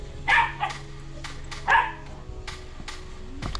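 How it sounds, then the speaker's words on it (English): A dog barks two sharp, loud times close by in an open outdoor setting during a Caribbean family trip in Grenada, with quieter yips and faint background noise between. "That dog is bad. Look how crazy the dog is."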